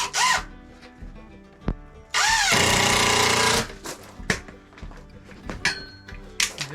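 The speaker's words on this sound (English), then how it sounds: "screwing it just temporary for now" Power drill driving a screw into a 2x4 board, one loud steady whir of about a second and a half, surrounded by scattered knocks and handling taps.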